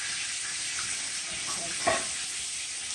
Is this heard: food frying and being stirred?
yes